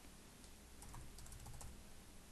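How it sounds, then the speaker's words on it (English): Computer keyboard typing, faint and close, several light key clicks in a quick irregular run over a low steady hiss. "I'm just going to type the word wiggle."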